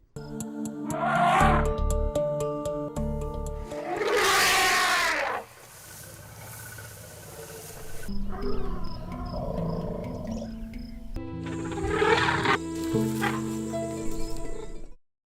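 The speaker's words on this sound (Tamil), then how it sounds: "யானைகள் பலவிதமான ஒலிகளை உண்டாக்குகின்றன இதில் கர்ஜனைகள் கூவல்கள் மற்றும் ட்ரம்பட் ஒலிகள் அடங்கும்" Wild elephants in a herd give a run of varied calls, deep harmonic rumbles and brassy trumpet-like blasts, separated by short pauses and changing abruptly from call to call.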